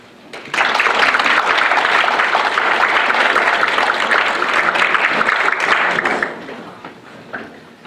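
An audience claps for a lecturer arriving at a talk on Latin American abstract art, loud sustained applause from a full room that swells suddenly, holds for several seconds, then fades out.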